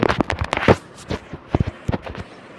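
Rapid gunfire in the Free Fire video game rattles out in sharp, irregular cracks and short volleys, loud and close, tapering into scattered isolated shots.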